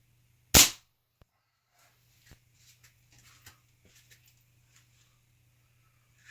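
A Weihrauch HW97KT air rifle fires a single pellet with one sharp, loud, close crack, followed by faint handling clicks and small taps under a low steady hum.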